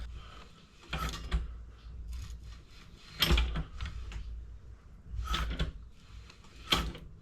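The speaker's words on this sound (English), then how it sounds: "If you're wondering why it's quite clunky to turn the crank" The crankshaft of a Yamaha MT07 CP2 parallel-twin engine is turned by hand against compression, giving a series of close, heavy mechanical clunks and ratcheting clicks spaced about every second or two, with no talking.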